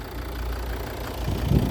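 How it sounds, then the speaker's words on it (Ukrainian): A Volvo V60 D5 five-cylinder diesel with AWD idles with a steady low rumble close by, then a slight rise in level near the end as the engine note firms up, with no talk over it. "Послухайте роботу двигуна. Просто, просто муркоче."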